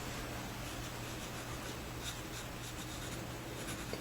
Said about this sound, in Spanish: con un trazado de este tipo podemos comenzar a dibujar. El HB, como les dije, no es un lápiz que nos permita unos grises muy fuertes